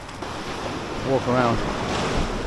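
Rough sea surf washes in after Hurricane Beryl on the Jamaican coast, a steady roar of waves with wind buffeting the microphone, while someone briefly speaks over it.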